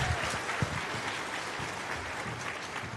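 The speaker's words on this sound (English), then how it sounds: "Let's keep the applause going" A crowd applauds at a cosplay stage event at EVO 2024, a dense steady clatter of clapping, sustained and moderately distant, with no speech over it.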